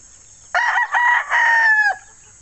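A single rooster crows once, close and loud, a broken multi-part call that rises and trails off, with silence before and after.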